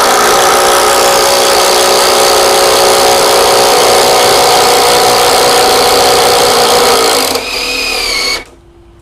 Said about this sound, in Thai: ผมลองเจาะลงบนไม้ตรงนี้นะครับ